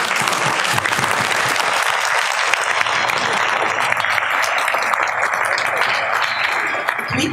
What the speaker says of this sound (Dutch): Ook dat verdient een apart applaus.